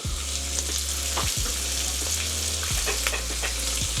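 Shrimp sizzle steadily in a hot pan, a dense continuous frying hiss broken by a few stirring scrapes, close and loud with no talk.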